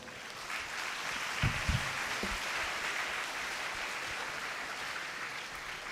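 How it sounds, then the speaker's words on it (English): Audience members at a legal awareness seminar clap in a sustained, moderately distant round of applause, with a couple of louder thumps near the start blending into the even patter. "Let us give them a heartfelt round of applause."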